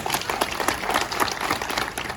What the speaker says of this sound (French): Je voudrais qu'on les applaudisse tous et toutes très fort